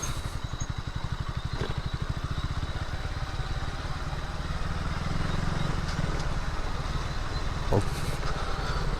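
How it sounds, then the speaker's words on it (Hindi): KTM Duke motorcycle engine burbling steadily while riding, a continuous low pulsing exhaust note with road and wind noise throughout, fairly loud and close. "इतना बबलिंग कर रही है ना बाइक, हद से ज़्यादा अति।"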